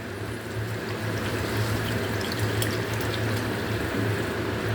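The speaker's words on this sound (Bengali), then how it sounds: "এবার আমি এর মধ্যে পরিমাণ মতো জল দিয়ে দিচ্ছি।" Water poured steadily into a pan of frying potatoes for a Bengali aloo posto dish, a continuous soft rushing splash heard alone at moderate level.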